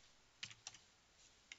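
A few quick key clicks from a computer keyboard, quiet and close, coming in two small bursts with a short pause between them and no talking.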